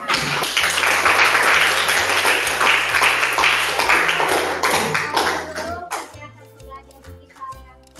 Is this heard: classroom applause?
yes